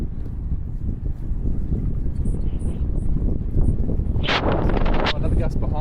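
Gusty wind roars steadily across the microphone during a wing foiling session on Pittwater, with a brief splashy burst near the end and a voice talking over it.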